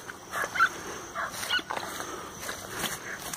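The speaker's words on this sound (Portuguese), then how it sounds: "os cachorrinhos tá bravos lá" Several dogs bark agitatedly some distance away outdoors by a fishing spot, sharp yips and barks scattered over a low background hiss.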